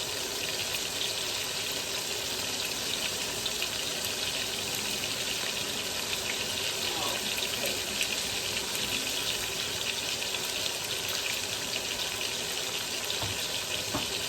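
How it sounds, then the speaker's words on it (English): A kitchen tap runs in a steady, close rush as hands are washed beneath it, the flow staying even throughout with faint splashing and no talk. "Wash my hands real quick."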